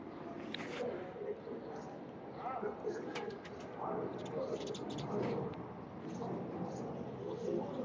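A Teddy King breeder pigeon coos quietly in low, repeated burbling calls. Someone talks nearby over faint ambient noise.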